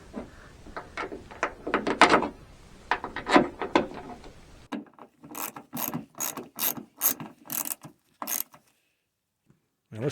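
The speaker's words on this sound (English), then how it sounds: "screw the bolts in" A ratchet drives bolts into a Jeep Liberty back door latch, with bursts of quick clicking pawl strokes, some louder and sharper, repeated in close succession at near range.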